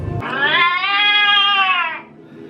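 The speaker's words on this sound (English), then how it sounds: "You making the kitty cat make noise?" A single long, drawn-out electronic meow from a toy cat at Ripley's Odditorium in San Francisco, loud and close, rising and falling for about two seconds before cutting off.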